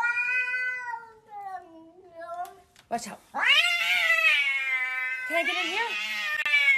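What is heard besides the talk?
cat meowing and caterwauling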